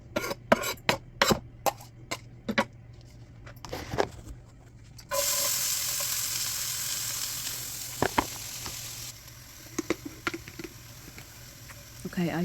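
Garlic hits a hot pan while refried beans are being cooked, starting a steady loud sizzle partway through, preceded by sharp clicks and clatter of utensils, with scattered clinks continuing over the frying.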